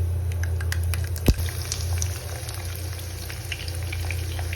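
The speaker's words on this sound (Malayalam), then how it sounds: "എണ്ണ ഒന്ന് ചൂടായി കഴിയുമ്പോൾ അതിലേക്ക് കടുക് ഇട്ട് കൊടുക്കുക." Mustard seeds dropped into hot oil in a pan crackle and sizzle steadily, with one sharp pop near the start and scattered small spits over a low hum.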